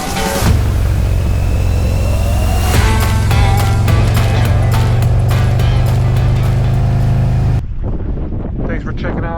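A motorcycle cruises along Highway 36 in California, its engine a steady droning hum under heavy wind rush; the engine sound cuts away near the end, leaving quieter scattered noise.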